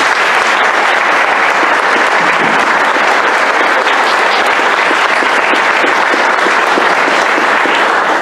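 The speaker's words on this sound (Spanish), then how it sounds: "pues yo les pediría que le diéramos un aplauso a la doctora Marchelli" Loud, dense audience applause at the inauguration of an international congress on artistic and cultural heritage, a continuous crowd of clapping hands sustained at even strength throughout.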